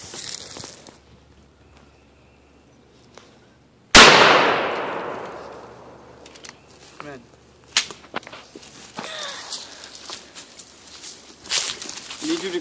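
A single sharp, loud rifle shot fired from a tubular-magazine rifle loaded with a wax and hot melt glue slug, ringing off with a long decay, followed by faint shuffling, clanks and footsteps.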